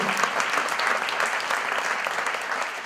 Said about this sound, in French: On va l'applaudir très fort. Bravo.